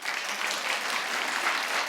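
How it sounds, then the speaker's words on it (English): A television studio audience claps in a brief, even burst of dense applause that fills the space without a break. "Clap if you think that's too much baggage,"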